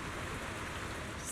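Rain falls steadily in the video game Zenless Zone Zero, a dense, even patter on surfaces, soft and continuous with no talk.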